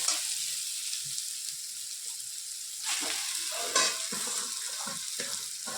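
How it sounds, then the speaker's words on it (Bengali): Vegetable chow mein noodles are tossed and stirred in a frying pan, giving a constant hissing sizzle with scraping and clattering surges, the loudest near the middle, and no speech. "সব চাউমিনটা এর মধ্যে দিয়ে দিলাম দিয়ে একটু নেড়ে চেড়ে নেব"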